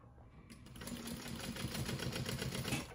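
Sewing machine stitching a quarter-inch side seam on a crossbody bag, starting after a brief quiet moment and then running steadily with a fast, even mechanical chatter that stays close and moderately loud.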